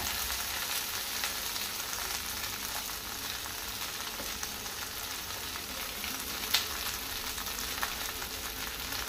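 Chopped onions fry in a pan with a soft, continuous sizzle that holds steady throughout, plus one faint clink near the end. The sound is quiet and steady, and no one talks.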